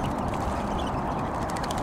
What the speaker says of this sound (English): there's other ducks mixed in too